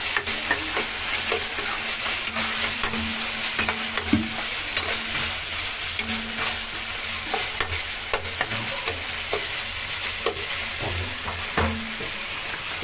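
Green chili sauce poured into a dish frying in a pan, a continuous close sizzle broken by frequent spoon scrapes and stirring knocks, with no talk.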